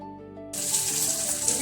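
Grated coconut for sweet modak filling hits a hot kadhai, setting off a sudden, steady sizzle that continues close up after a quiet moment.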